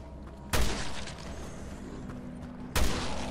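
Two loud, sharp gunshots from Resident Evil Revelations 2 ring out about two seconds apart, each with a short decaying tail over quiet background ambience.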